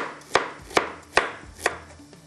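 Lemon and ginger for fish biryani are cut with four sharp, evenly spaced knife chops on a board, close and crisp with quiet pauses between.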